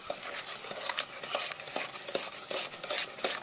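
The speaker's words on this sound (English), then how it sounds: "I'm whisking it together." Cookie batter being whisked by hand in a bowl, a steady rapid scraping and swishing with rhythmic clicks of the whisk against the bowl, close and continuous without speech.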